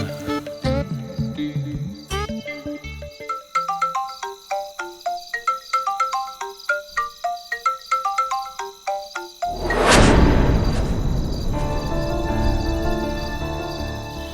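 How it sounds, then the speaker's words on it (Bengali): A phone rings during a call in a TV drama scene, playing a repeating melodic ringtone of bright, evenly spaced notes for several seconds before a sudden loud burst of broadband noise takes over. "এই শেষবারের মতো ফোন করছি দিজু।"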